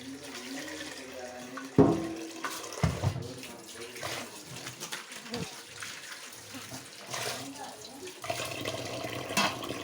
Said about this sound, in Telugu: ట్యాప్ ఓపెన్ చేసుకొని రెండు సార్లు నీళ్ళు ఇలా కడుక్కోవాలి